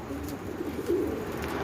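Faint, soft cooing of pigeons kept by a village pigeon flyer, a low murmuring call rising briefly over steady background noise.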